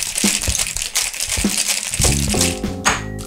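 Ice rattles hard inside a cocktail shaker shaken vigorously, a loud, dense, continuous clatter and crunch with a steady back-and-forth rhythm and no voices.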